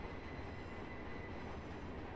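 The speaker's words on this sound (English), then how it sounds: "Oh, good, we got trains coming." Trains rumbling by in a railway simulation, a steady broadband roll of wheels on track with faint squeal, continuous and fairly quiet, no talking.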